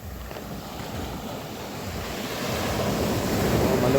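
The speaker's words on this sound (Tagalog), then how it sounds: "malumanay yan. Alo ng dagat." Soft surf washes onto the shore at Dipaculao, Aurora, a gentle rushing swell that grows gradually louder, mixed with light wind against the microphone.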